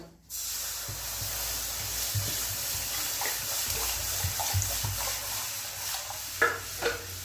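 Water poured into a very hot kadai on a gas stove, a burst of spraying hiss and splashing that settles into a steady bubbling sizzle with a few clinks near the end, no voices.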